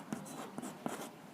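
Pen scratching across paper while a class 10 quadratic equations maths problem is written out, a soft close scribble with a few sharper strokes in quick succession and no voice.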